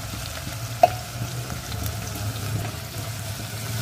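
Onions fry with ginger and garlic in a pan, making a low, even sizzle with a faint hum underneath and one small sharp pop early on, steady and close, with no speech.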